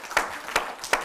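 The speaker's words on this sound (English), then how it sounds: "Clap for that, everybody." Audience applause, heard as three sharp separate claps spaced evenly across about a second, fairly close and light, with no talk over them.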